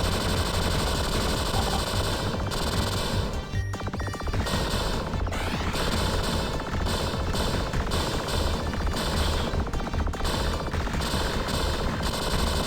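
Homing shot weapon fire from the Blaze of Storm shooter game plays as loud, continuous rapid-fire bursts, with crashing hits and explosions layered over dense game music and effects.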